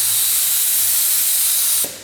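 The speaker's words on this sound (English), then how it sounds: "As you can tell, whenever we go to spray it on the water," Close, steady hiss of an air-compressor spray gun misting Liquid Concepts activator, a continuous bright spray that cuts off abruptly near the end and leaves faint background noise.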